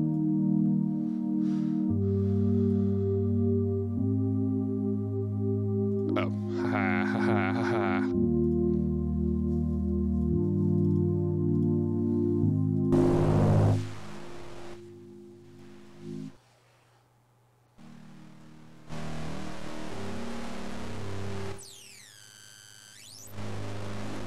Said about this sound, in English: This is a bit crusher, not just a crusher.